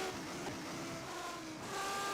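Race car engine in an F1 1991 video game at the British Grand Prix, running abnormally after a spin: a steady droning engine tone holds throughout, loud and close, with no talk.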